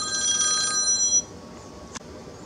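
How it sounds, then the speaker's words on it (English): A telephone rings in a bright, trilling burst that fades out, followed by a quiet room and a faint click. "Phone's ringing."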